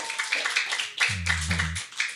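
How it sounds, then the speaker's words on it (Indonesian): A gathering claps for a young child called forward at an Islamic gathering, scattered uneven applause with voices talking over it and a brief low hum partway through. "tepuk tangan buat Aska"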